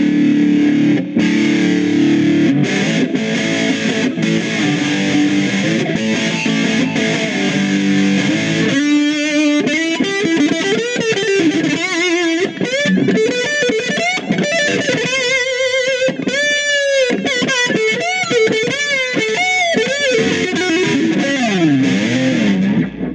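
Loud distorted electric guitar played through two Roland Micro Cube amps in stereo, strummed chords then busy riffs and bends, continuous and close with no talking.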